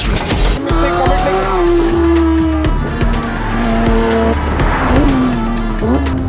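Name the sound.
naturally aspirated 4-liter race car engine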